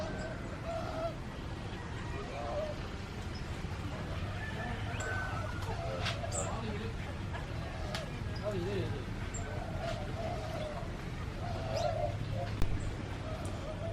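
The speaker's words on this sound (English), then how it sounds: "These little pink birds over here are pretty cool." Small pink birds at an aviary, cooing and calling in soft repeated notes over steady background ambience, with people talking nearby.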